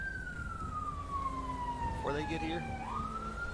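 An ambulance siren in the LSPDFR police game wails in a slow descending sweep, then rises again with a short warble, heard at moderate distance over a low engine hum while a person talks briefly.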